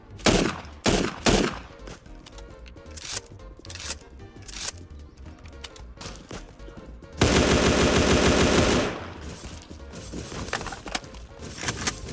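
Weapons firing in a bloody Roblox game: scattered sharp shots and short bursts early on, then a loud continuous stretch of rapid machine-gun fire that tapers into quieter, irregular shooting.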